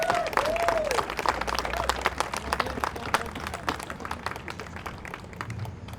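A crowd at an eminent domain protest in San Antonio, Texas applauds loudly, with sustained clapping and scattered cheers that gradually ease off.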